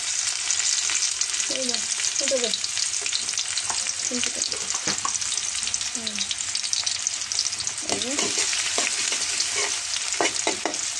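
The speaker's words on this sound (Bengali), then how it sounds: "সো আমি তেল গরম করতে দিয়ে দিয়েছি, দিয়ে দিচ্ছি পেঁয়াজ" Chopped onions fry in hot oil in a pan, giving a steady, close crackling sizzle that runs throughout. Occasional spoon scrapes and a few brief distant voices come through in the background.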